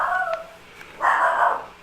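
A dog indoors in a workshop gives a couple of short, high yips or barks with a pause between them. The barks sound fairly close and stand alone with no talking.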